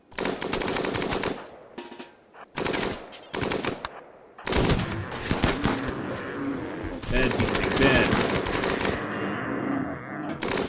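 Rapid gunfire bursts crackle through a RimWorld colony battle, several loud volleys separated by brief pauses, then a longer sustained stretch of shooting near the end.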